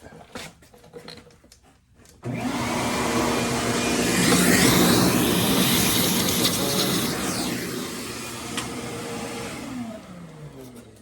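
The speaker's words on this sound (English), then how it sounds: "you gotta be careful not to vacuum up my tap here and to get it lost in the old shop vac" A shop vac roars up in a workshop, loud and steady for several seconds before winding down, following a quieter start; the work involves a Hitachi table saw fence.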